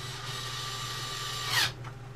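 A power drill whirs steadily while tightening screws on a Flashforge AD5X 3D printer enclosure panel, with a brief louder burst near the end before settling back to a low hum.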